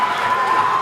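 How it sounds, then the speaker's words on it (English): Crowd at a women's MMA title fight cheering wildly, a dense, loud, continuous roar of voices filling the whole moment. "The crowd's going wild."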